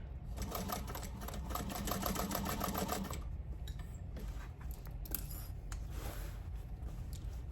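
A sewing machine bastes a tote bag seam in a rapid, even stitching rattle for about three seconds, then stops, leaving faint handling noises and quiet room tone.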